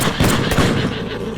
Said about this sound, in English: We awoke in the middle of the night to sounds of gunfire in the distance